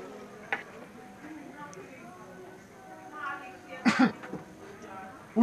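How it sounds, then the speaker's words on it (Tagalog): A person coughs and clears their throat in a quiet room, with a sharp loud burst near the end following a few softer throaty sounds and some faint murmured talk. "Marami nang nagkakaubo ngayon"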